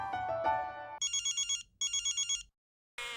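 A phone on speaker rings during a call, giving two bursts of a rapid electronic trill. Another tone comes before the rings and another after them, and there are no voices.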